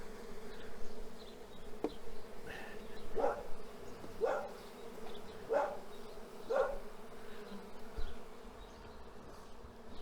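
Honey bees buzzing around a hive frame as a beekeeper works the colony with smoke and a bee brush: a steady, nearby insect drone with several short, louder swells, and no talking.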